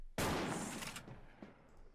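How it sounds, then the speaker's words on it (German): A single sharp gunshot cracks out in the online shooter Wolfteam, loud and sudden, followed by a short fading tail and a faint later knock. "Ich hab doch einen Schuss gehört."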